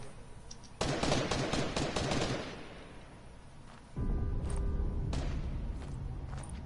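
Gunfire in a video game aimed at the player: dense bursts of rapid shots crackle loudly through the first two seconds, fade, then a second heavy volley erupts around four seconds with sharp single reports continuing to the end.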